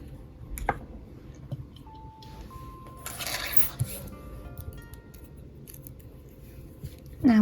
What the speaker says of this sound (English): Then just cut your yarn and pull through.